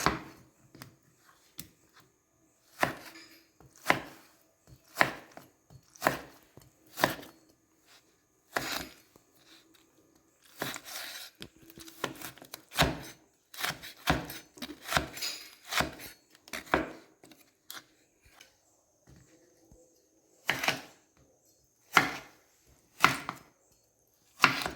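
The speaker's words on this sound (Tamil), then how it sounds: "இப்போ இதை நம்ம பொடி பொடியாக கட் பண்ண போகிறோம்" A knife chops lemon into small pieces on a cutting board for pickle, with close, sharp knocks that come in irregular quick bursts and short pauses.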